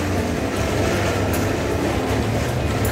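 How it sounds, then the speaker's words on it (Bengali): A train arriving at a station platform in Bangladesh, a dense, steady rumble and rattle of rolling wagons close by, with no voices. "ট্রেনটি মাত্র আসছে"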